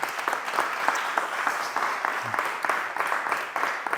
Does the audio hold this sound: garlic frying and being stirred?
no